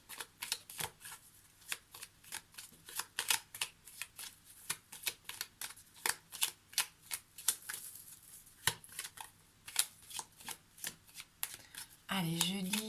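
Lenormand oracle cards are riffled and shuffled in a steady run of quick papery bursts, close and fairly quiet, with a short voice sound breaking in at the very end.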